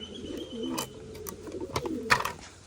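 Pigeons coo in soft, repeated low warbling phrases close by, with a few brief higher chirps and light rustling mixed in.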